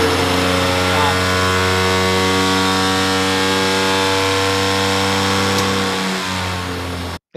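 DC motor with no load whines as it speeds up, its steady harmonic hum holding loud and even for several seconds before dropping away abruptly at the end, with a voice talking over it.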